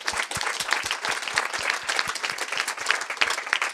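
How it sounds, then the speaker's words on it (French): An audience at an evening coding meetup claps in steady, dense applause that stays even throughout, without a pause. "Je pense qu'on peut vous applaudir bien fort pour cette soirée."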